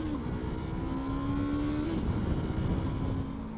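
A 2020 Yamaha R3 motorcycle rides steadily with a continuous engine drone, one clear tone gliding slightly as revs shift under engine braking, close and fairly loud throughout with no talk.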